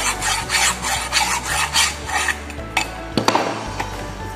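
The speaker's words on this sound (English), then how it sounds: "Filing start to remove this rust in given workpiece." Rough hand file rasping rust off a metal workpiece clamped in a vise, steady back-and-forth strokes in a close, loud rhythm that ends in a few sharper scrapes and clunks.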